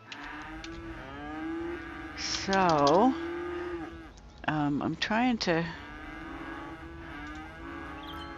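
Cattle mooing on a farm in the Cities: Skylines city-building game, several drawn-out, wavering moos rising and falling in pitch over a low steady hum, with someone speaking briefly at the start.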